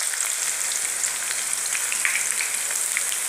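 Green chilies, mustard seeds and asafoetida sizzle in hot oil, a dense, continuous hiss with scattered crackling pops, close and loud with no talking.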